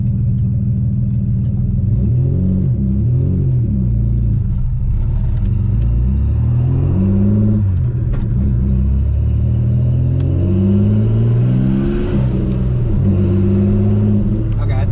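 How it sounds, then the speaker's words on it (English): A turbocharged 3800 Camaro engine revs and drops repeatedly with a loud, close rumble, gears shifting and a fluttering turbo chatter between pulls. "You hear the turbo flutter, you know?"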